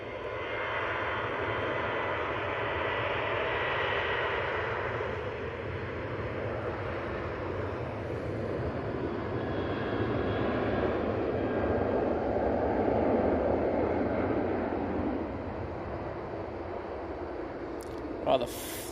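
A Boeing 737 jet departs Manchester Airport with a sustained engine roar that swells in the middle and then eases off, fairly distant and steady, with a brief sharp knock near the end.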